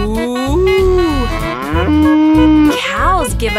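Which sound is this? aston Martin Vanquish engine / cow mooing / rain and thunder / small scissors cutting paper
cow mooing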